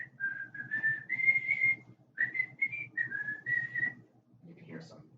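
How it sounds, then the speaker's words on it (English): A wavering, tuneful whistle rises and falls in several short phrases with pauses between them, fairly quiet against a low background rumble. "And you can hear some sort of weird whistling noise."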